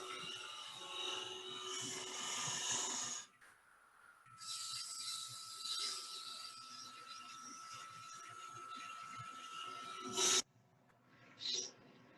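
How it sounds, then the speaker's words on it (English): A detail gouge pares wood in a woodturning demonstration, making long continuous rasping scrapes with a short pause partway through and a sharp bump near the end. "So I'm going to clean up some of these with a detail gouge"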